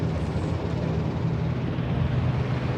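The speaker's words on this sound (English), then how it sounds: "another hot rod airplane from World War II" A Douglas A-26 Invader, a World War II attack bomber, roars past at an EAA AirVenture airshow, a loud, steady broadband engine drone filling the whole stretch without a break.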